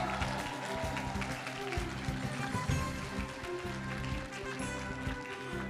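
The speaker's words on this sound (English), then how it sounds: "Once again, let's welcome him with a cheer, Mr. Pak Ju-young." An audience at an Atomy Success Academy event cheers and applauds to welcome a guest speaker, a steady wash of clapping and crowd noise with a voice talking over it.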